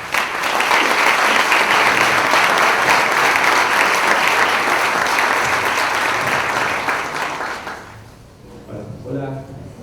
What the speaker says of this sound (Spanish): Le damos la bienvenida brindándole un fuerte aplauso